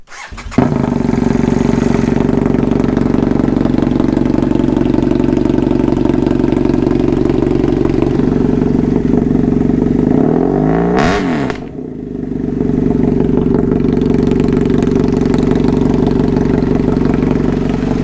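A BMW F800GS motorcycle with a Danmoto XG-1 custom exhaust starts up and idles with a loud, throaty rumble, giving a brief rev midway before settling back into a steady, close idle.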